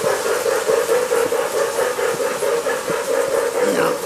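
A model train runs over a carpet layout, a steady rhythmic clattering chug with hiss and a sustained mid-pitched hum, moderately loud and continuous throughout.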